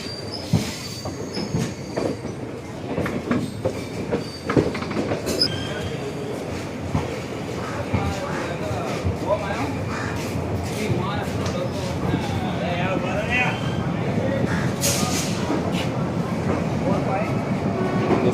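A train rumbles along platform four at Ahmedabad Junction with metallic wheel squeals and clacking, loud and close, with some voices and station noise mixed in.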